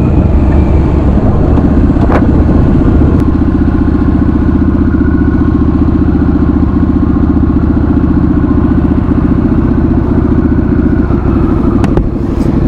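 A motorcycle, either a Harley-Davidson Sportster S or a Yamaha MT-09, cruising down a highway, its engine a loud, unbroken drone with rushing wind and a couple of faint clicks, steady for the whole stretch.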